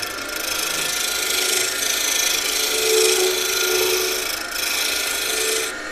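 Rasping, ratchet-like scraping as parts of a wooden sphere box lid are screwed together, a continuous close-up grinding with slight swells in intensity.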